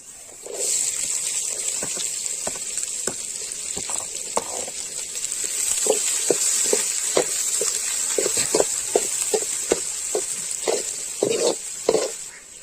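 Shallots go into a hot pan for chicken uppu curry after dried red chillies, setting off a steady sizzle with repeated close clacks of a spatula stirring, continuous and fairly loud with no talk.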